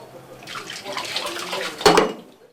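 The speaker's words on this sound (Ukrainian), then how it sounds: "Для цього викачують воду із підвального приміщення." Water gushes and splashes steadily as it is pumped out of a flooded basement room beside a monastery building, heard close, ending with a brief louder splash and a sharp knock.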